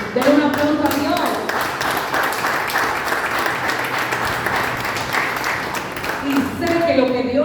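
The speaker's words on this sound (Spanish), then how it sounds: "den un aplauso a Dios" A church congregation breaks into sustained, loud applause, dense clapping from many hands filling the room steadily from start to finish, with voices mixed in.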